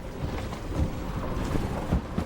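Rescue boat engine running in a storm at sea, a low, uneven rumble mixed with gusting wind and water noise.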